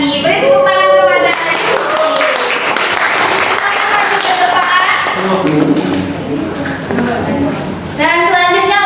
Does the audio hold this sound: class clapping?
yes